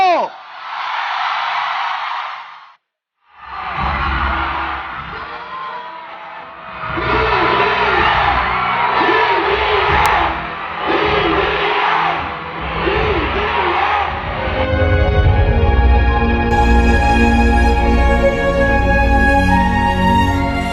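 A large outdoor rally crowd in Cavite roars and cheers in sustained waves for about twenty seconds, with a short lull near the start, before music begins to swell under the noise.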